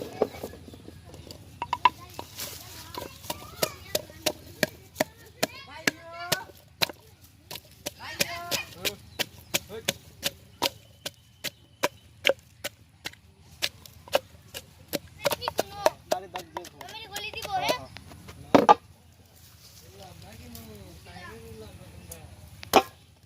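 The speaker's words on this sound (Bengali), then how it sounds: "এবার পেঁয়াজ গুলো ছেঁচে নেব।" Onions crushed by pounding for a Chettinad chicken ghee roast cooked in a village: many sharp, close thuds in an uneven rhythm, some quick runs of strikes, with a voice speaking softly between them.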